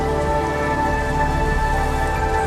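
Rain falls at night in Bangkok, a steady dense hiss of drops on surfaces, with a sustained tonal hum beneath it throughout.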